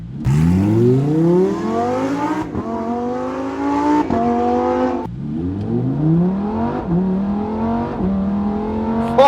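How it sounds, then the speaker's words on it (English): A Lamborghini Huracan EVO, a 2020 model, revs hard in track mode on a drive, its engine climbing loudly through repeated rising pulls with brief drops at gear shifts, close and continuous with no talk. "So let's go and pull the car to see the powerful Lamborghini Huracan."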